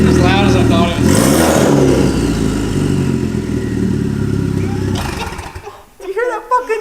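Hyundai Veloster Turbo fitted with a catless downpipe, starting up and running loud and close, with a broad droning exhaust and a brief rise around the second second, then settling to idle before people talk over the tail end.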